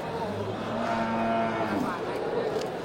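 An Aceh cow gives one drawn-out moo at a livestock market, loud and close, sliding downward before trailing off against background noise.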